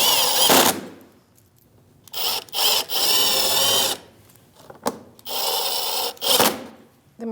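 A power tool with a 7mm socket spins headlight assembly bolts out of a 2016-2025 Chevrolet Malibu in several short, loud, buzzing bursts separated by pauses.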